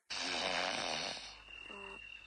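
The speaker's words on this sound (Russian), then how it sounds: "Откуда берется храп?" A person snores loudly and close, with one long rasping inhale followed by a quieter, softer rattling breath.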